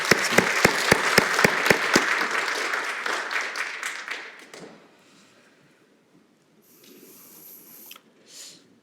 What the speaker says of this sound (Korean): 우리 박수로 감사의 마음을 전하겠습니다